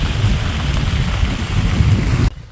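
Monsoon rain pours over a lotus field at Kollengode in a Palakkad village, a dense, loud, close wash of downpour that continues without a break until it cuts off abruptly at the end.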